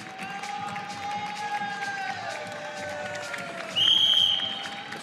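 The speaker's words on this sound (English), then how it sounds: "Tremendous crowd here inside the theater at Boulevard City" Crowd inside a theater at a WBC boxing semi-final in Boulevard City, Riyadh, a steady roar of many voices with whistles and a swell of cheering near the end, under a commentator's voice.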